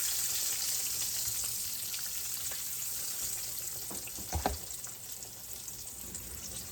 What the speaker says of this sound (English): I'm gonna wash my tongs.